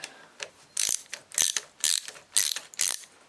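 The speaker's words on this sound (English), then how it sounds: "I'll tighten the bolts up and I'll show you what happens." A ratchet tightens bolts on a Land Rover alternator taken off a boat, giving loud, close bursts of rapid clicking in about five strokes with short pauses between them.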